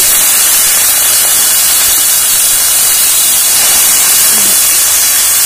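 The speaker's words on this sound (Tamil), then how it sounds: "இப்ப எண்ணெயில வதக்கிக்கலாம்." Drumstick leaves sautéing in oil for a Tamil-style kootu, a loud, dense, unbroken hiss of frying throughout, close to the pan, with no speech.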